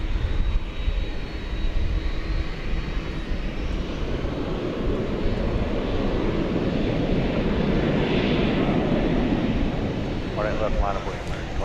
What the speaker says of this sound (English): Jerry Melton regarding that 767, that was a quick one.